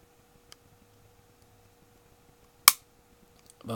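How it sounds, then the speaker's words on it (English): The trigger of a CZ P-07 9mm pistol resets with one sharp, crisp click, following a fainter tick earlier in near silence with no one speaking. "And just to show you the trigger reset,"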